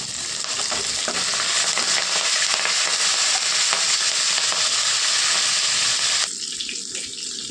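Curry leaves and dried red chillies sizzle in hot oil, a steady loud crackle that runs unbroken for about six seconds and then drops back to a quieter simmer.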